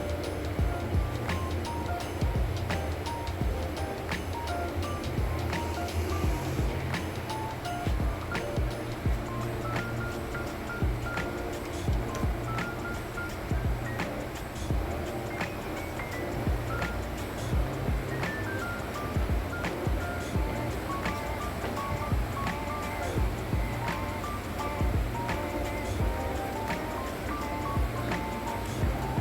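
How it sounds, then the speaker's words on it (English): A dishwasher used as a bottle washer runs steadily in a home kitchen at Christmas, a constant mid-level wash and rumble that fills the background throughout with irregular small clicks and knocks. "Got the dishwasher, bottle washer running in the back, which is the noise you can hear."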